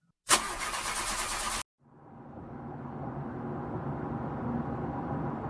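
A car engine cranks and catches, then after a short gap settles into a low, steady running hum as the vehicle drives off along an empty road, fairly quiet and with no voices.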